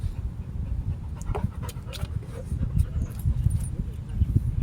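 A dog pants rapidly and close by, a rough rhythmic breathing with faint whimpers, under a low rumbling background.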